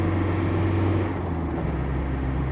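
A Land Rover Defender 110 with a tuned 300Tdi diesel engine pulls uphill under load, giving a steady low drone with a harmonic hum, heard from inside the cab.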